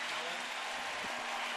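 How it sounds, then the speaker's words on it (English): A baseball crowd of about 26,000 applauds pitcher Kazmir at a night game in Cleveland, a steady, even wash of clapping that stays moderately distant with no breaks. "And Kazmir will get a nice ovation"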